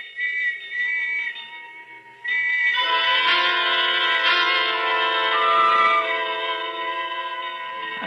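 Whistles blow in an old-time radio drama: steady, shrill, layered tones hold for about two seconds, break briefly, then return louder and fuller, sustained to the end with no talk.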